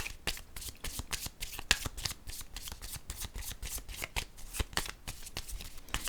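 Oracle cards being shuffled by hand, a steady run of quick papery riffles and flicks lasting the whole stretch, close and fairly loud with no voices.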